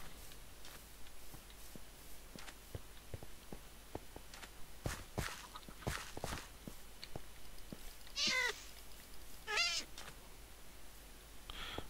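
A cat gives two short, faint meows close together near the end, against quiet room tone broken by scattered soft clicks and taps.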